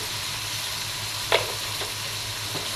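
Fish sizzling steadily in a hot pan with salt and cumin added, a constant soft frying hiss broken by a sharp scrape or clink as it is stirred, followed by a couple of fainter stirring touches.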